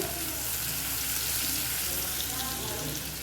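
Chopped onion and garlic with asafoetida frying in a pan for a potato and fenugreek dish, a steady close sizzle lasting a few seconds without pause.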